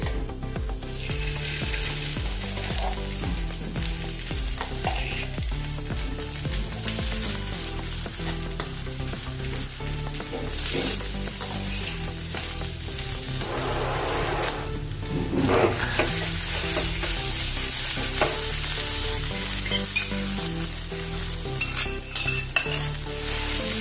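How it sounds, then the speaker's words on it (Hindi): Spice paste for a chivda curry fries in oil, a steady close sizzle with stirring and occasional utensil scrapes against the pan throughout. "अभी इसको भून लेंगे मसाले को"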